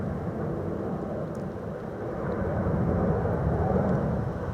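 A Singapore Airlines airliner departing Amsterdam Schiphol sends a broad, steady jet roar across the field, swelling slightly louder toward the end, with no talk over it.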